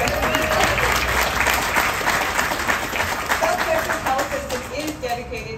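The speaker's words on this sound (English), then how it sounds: "South Texas, we can applaud that." An audience at the grand opening of a South Texas Health System emergency department applauds steadily, dense close clapping that slowly fades, with a few voices calling out over it.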